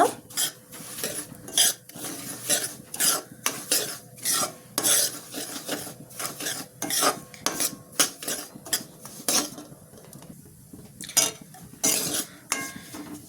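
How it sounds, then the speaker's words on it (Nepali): A spoon scrapes and clinks steadily against a pan as dry semolina is stirred and roasted over low gas, in a quick repetitive rhythm, close up. "हामीले ग्यासलाई एकदमै सानो बनाएर हामीले यसलाई भुट्नु पर्छ"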